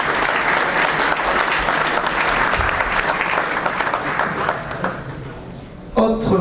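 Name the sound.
audience applause for a medal winner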